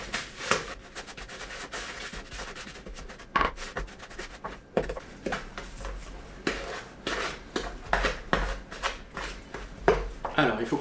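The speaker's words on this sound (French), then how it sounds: "on commence par mélanger le beurre et le sucre." Butter and sugar are mixed by hand in a bowl, giving repeated scraping, clinking and rubbing strokes of a utensil against the bowl, close and irregular, with a voice heard faintly at moments.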